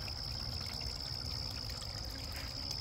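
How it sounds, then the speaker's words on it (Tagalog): Water trickles and streams steadily from a small waterfall in a garden at night, a constant near splashing flow with no voices. "Ayan yung waterfalls."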